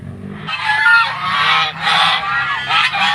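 A goose honks loudly and close by in several long, harsh calls with brief breaks between them, with no voices over it.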